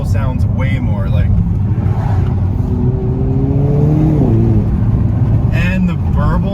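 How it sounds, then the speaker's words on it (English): Hyundai Kona N with an upgraded turbo pulling under load, a loud steady engine drone with rising whistling tones through the middle, while a person talks over it at the start and end. "this is the upgraded turbo that the Elantras and the Kona Ns come standard with"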